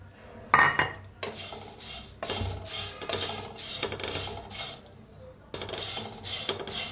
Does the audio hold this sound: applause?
no